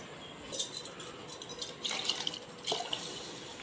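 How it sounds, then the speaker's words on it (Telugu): Water trickles and splashes faintly in a few short pours into a pressure cooker holding rice, quiet drips and gurgles against a soft background. "ఒక గ్లాస్ బియ్యానికి 2 గ్లాసులు వాటర్ వేసి కుక్కర్లో పెట్టి ఉడకబెట్టుకుంటాను"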